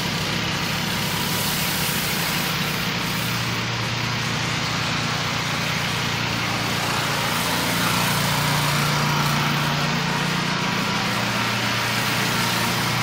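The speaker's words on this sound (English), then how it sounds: "just keep power washing" A pressure washer runs steadily throughout, a constant motorized drone with a hissing spray layer, loud and close with no talking, while cleaning dirt and grime off surfaces.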